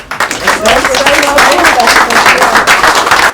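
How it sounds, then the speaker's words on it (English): Steady applause from a meetup audience fills the whole stretch, dense clapping with a voice rising faintly over it partway through. "so round of applause"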